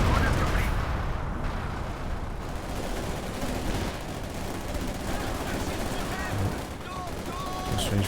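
A firefight in the Company of Heroes 2 strategy game, with dense overlapping rifle and machine-gun fire crackling steadily under a constant bed of battle noise and a speaking voice.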